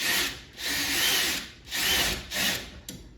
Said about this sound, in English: I'm just using a drill because it's faster